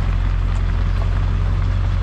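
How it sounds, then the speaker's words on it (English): A truck runs in reverse while herding a bull, producing a loud, steady low engine drone with a constant rumbling hum and no voices. "Herding a bull with the truck in reverse."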